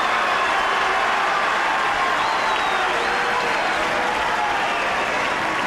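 Tennis fans at the Foro Italico in Rome applaud continuously through a 2006 Nadal versus Federer match, a dense, steady wash of clapping from a large crowd with no breaks.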